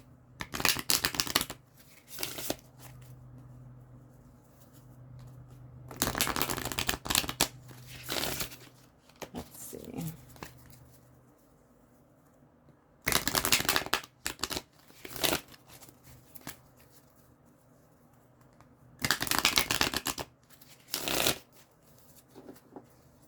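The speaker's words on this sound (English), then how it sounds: "I'm going to do like a really big shuffle" Tarot cards are shuffled in several quick riffling bursts, each a rapid flutter, separated by quiet pauses and a few soft handling sounds.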